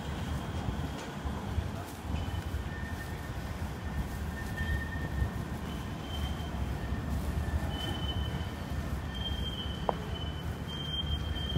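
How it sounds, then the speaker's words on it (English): Manchester tram rolling on street rails, a steady low rumble with thin squealing wheel tones drifting in and out, plus a brief bell-like ping, moderately close amid city background noise. "Manchester tram."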